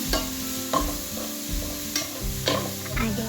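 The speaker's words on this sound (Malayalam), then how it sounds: "ഇത് എണ്ണയിൽ കിടന്ന് നല്ല ബ്രൗൺ കളറാകുന്നത് വരെ ചേർത്ത് കൊടുക്കാം" Ginger and garlic frying in hot oil until brown with a constant sizzle, punctuated by several clinks and scrapes of a spoon stirring the pan nearby.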